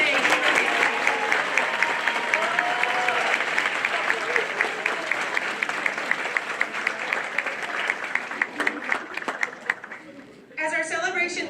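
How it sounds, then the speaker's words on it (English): A crowd applauds students at a university convocation, dense clapping that holds steady and then tapers off near the end, with a voice briefly emerging. "one more big round of applause for all the students who are here today"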